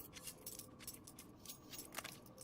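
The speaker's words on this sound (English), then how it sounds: "When you hear a lot of typing, that means people are readying up." Faint, rapid clicking of keyboard typing comes through players' voice comms during an online esports match, quick scattered keystroke bursts over a low background hum.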